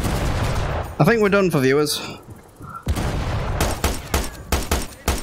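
Blind gunfire in the VR shooter Sniper Elite VR, a run of sharp, rapid shots crackling in bursts through the last few seconds, following a stretch of someone talking.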